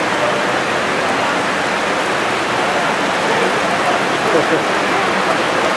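Heavy rain in Baguio City, Philippines pours down in a steady, loud, unbroken hiss, close and constant throughout, with no pauses.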